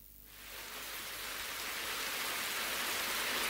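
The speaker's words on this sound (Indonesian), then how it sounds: "Hujan belum berhenti." Steady rain pours at a bus stop, a dense hissing wash that fades in over the first half second and then holds loud and even, with no voices.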